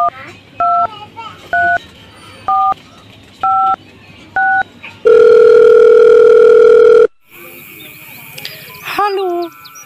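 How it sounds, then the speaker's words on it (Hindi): A mobile phone keypad beeps through a series of short, evenly spaced dialing tones, then a long steady tone sounds, followed by a brief electronic warble. "अनु भाभी, मोबाइल फोन लगाओ वो सारा वाला।"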